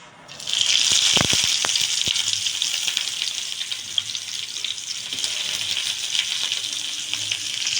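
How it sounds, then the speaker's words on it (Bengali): Two large sliced onions are dropped into hot oil, bursting into a loud sizzle with a few sharp clatters, then settling into a steady, bright frying hiss that carries on alone. "লাল করে ভেজে নেবো আমি"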